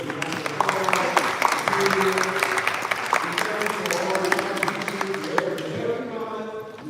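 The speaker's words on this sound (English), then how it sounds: "Please give yourselves a round of applause" Audience at a Defend Harlem community meeting applauds itself, dense clapping running for several seconds over a steady murmur of voices before tapering off near the end.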